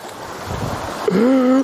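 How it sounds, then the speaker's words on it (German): Jet ski slapping into a wave, a rush of water and wind noise rising in a surge, and a voice cries out over it near the end. "Oh, was ist das für eine Welle auf einmal?"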